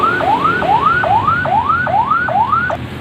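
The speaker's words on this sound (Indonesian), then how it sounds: "Sirene yelp digunakan oleh driver ambulan ketika ambulan melaju dengan membawa pasien yang gawat tapi tidak darurat" An ambulance yelp siren wails in fast rising sweeps, about six quick repeating cycles, loud and steady with no voices over it.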